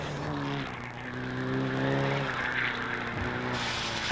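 A Hyundai rally car on ice tires drives through snowy ruts at the 1997 Maine Winter Rally, its engine droning steadily and shifting pitch with a brief tire scrub, loud and close throughout.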